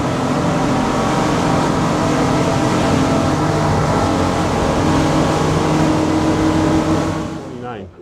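Twin 600 hp Yamaha outboards on a Grady White 307 roar steadily at high power, a loud, continuous engine drone with rushing water and wind noise that fades away at the very end.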